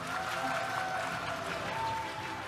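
Applause from a crowd at a Democratic Party award ceremony, a continuous, even clapping texture heard at a moderate distance with a faint tonal hum beneath it.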